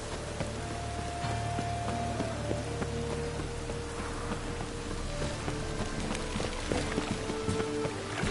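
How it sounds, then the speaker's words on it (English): Steady rain falling in a video game, a soft continuous patter with scattered drops and faint background tones, alone with no voices. "Rain, I like rain."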